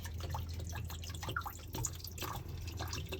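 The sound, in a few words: water draining from a Nautique G25 boat's transmission plug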